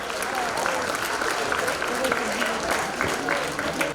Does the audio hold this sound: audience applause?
yes